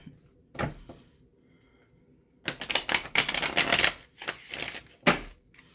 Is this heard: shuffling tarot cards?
yes